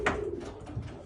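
A racing homer pigeon, a cock bird flown in long-distance pigeon racing, coos close by in a short, low, throaty burst with no one talking.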